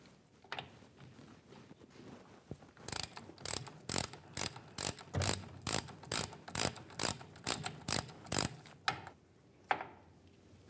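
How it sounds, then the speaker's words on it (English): A 3/8 drive ratchet with a 22mm socket working a differential fill plug on a 1998-2011 Ford Ranger rear axle, a steady series of about fifteen close clicking strokes in an even rhythm. "Typically, you'll be using a 3/8 drive ratchet for this."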